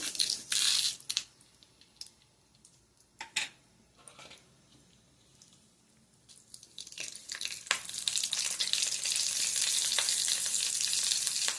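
A hot oil tempering of cumin, urad dal, mustard seeds and curry leaves for beetroot chutney sizzles loudly up close, with a burst at the start, a quieter stretch of stirring, then a strong steady crackle building to the end.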